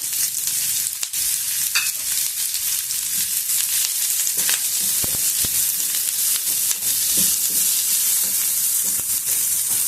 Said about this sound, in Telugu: కొంచెం ఉల్లిగడ్డల్ని వేగనిద్దాము.